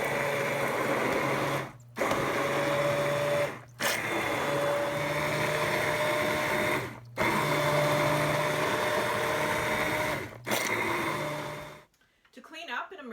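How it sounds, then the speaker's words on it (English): An immersion blender whirs in a pot of cooking meat sauce, with four strong bursts of motor drone separated by brief pauses before it cuts off. The sound is close and fairly quiet. "take my Immersion Blender straight into the pot while it's cooking, and I whip it up so it's the right consistency"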